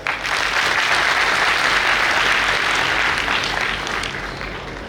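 An audience at a student awards ceremony bursts into dense, loud applause, a sustained wash of many hands clapping together that holds steady before easing slightly at the end, with no voices heard over it.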